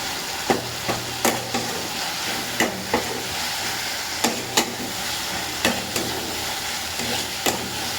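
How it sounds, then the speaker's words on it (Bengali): Onion-based spice paste for a meat curry sautéing in a pan, with a constant sizzle under regular scraping strokes of a spatula roughly every half second, close and fairly loud, no talking. "এবার মশলাটা ভালো করে কষে নিচ্ছি।"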